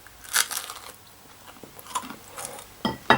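Crunchy thick bread from Aldi chewed close up, a few crisp bites with pauses, eaten alongside a hot spicy vindaloo meal.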